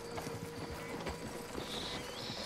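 Steady clip-clop of horse hooves at a trotting pace in the video game Red Dead Redemption 2, with a faint rattle and background ambience throughout.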